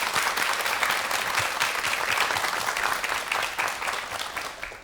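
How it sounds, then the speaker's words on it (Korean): A studio audience on a Korean morning talk show breaks into sustained, dense applause, loud and even throughout with no voices over it. "박수로 맞이해 주시기 바랍니다."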